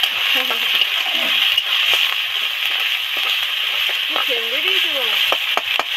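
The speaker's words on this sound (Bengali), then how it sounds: "আদা রসুন তো তেলের মধ্যে দিয়ে দিলাম, একটু লবণ অ্যাড করছি যাতে আদা রসুন পেঁয়াজ ভালো করে তেল ছেড়ে যায়।" Ginger, garlic and onion with a little salt fry in hot oil for a small fish curry with eggplant. A loud, steady sizzle crackles throughout, with brief talk over it.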